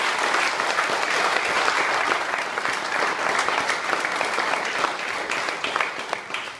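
Steady crowd applause at the inauguration of a temporary cultural venue, dense and continuous clapping from many hands that carries on throughout at even strength, tapering slightly at the end.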